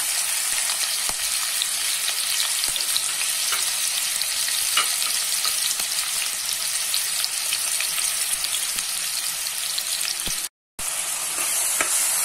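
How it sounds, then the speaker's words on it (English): Onion, green chilies and curry leaves fry in hot oil in a pan, giving a dense, steady sizzle with scattered crackles and pops throughout, briefly cut off near the end. "When the oil gets heat, add onion, green chilies and curry leaves."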